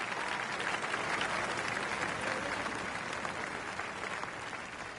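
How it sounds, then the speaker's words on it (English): A large crowd roars and applauds after an eagle on a par 5 in a golf video game, a dense continuous wash of cheering and clapping that stays loud throughout and tapers only slightly. "Crowd's going wild out there."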